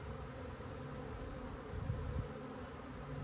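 A faint, steady drone of honey bees buzzing as a package of bees is installed in a new hive, continuous and low with no talking.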